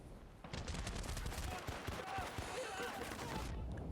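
Dense, sustained gunfire and explosions in the shooter video game Battlefield: Bad Company during the Crash and Grab mission, with HG2 frag grenades and an M60-style 443; loud, continuous bursts under faint background voices.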